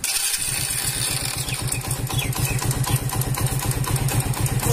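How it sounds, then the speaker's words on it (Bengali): Motorcycle with a freshly refitted carburetor starts up and settles straight into a fast, even, throbbing idle, loud and close with no talking. "তো এবার আমরা বাইকটিকে স্টার্ট দেব।"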